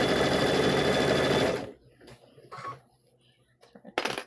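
A sewing machine runs steadily for about a second and a half, stitching quilt squares together in one continuous whirring burst, then stops, leaving quiet handling noises and a short clatter at the end.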